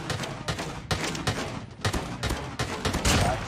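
Rapid bursts of gunfire from the Call of Duty Mobile video game, loud, close shots coming in clustered volleys with brief gaps between them, with no talking over them.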